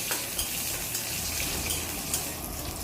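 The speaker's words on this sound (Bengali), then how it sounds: "পেঁয়াজ কুচিটাকে এবার ভালো করে ভেজে নিচ্ছি" Chopped onion sizzles steadily in hot oil, a constant crackling hiss with occasional faint scraping of a utensil.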